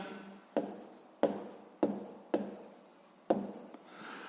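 A pen writing on paper during a sixth-grade maths exercise, five short scratchy strokes each starting with a crisp tap and trailing off, close and fairly quiet with soft rubbing between them.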